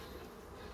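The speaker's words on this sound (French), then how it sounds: "Pas beaucoup d'abeilles." Faint, steady buzzing of bees around a beehive in the sun, a continuous low hum with no distinct individual insects standing out.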